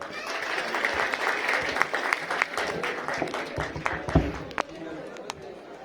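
Audience applause after a speech at a Venture Skill India institute event, a moderately loud crowd of clapping with sharp individual claps standing out, tapering slightly toward the end.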